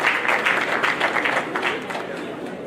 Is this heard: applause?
yes